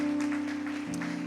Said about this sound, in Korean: 우리 큰 힘내라고 한번 박수로 한번 좀 격려해 주시고